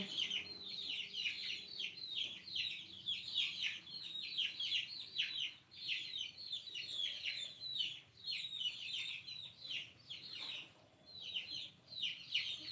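A flock of chickens clucks and squawks in a busy, continuous chorus of sharp, overlapping calls, fairly loud throughout.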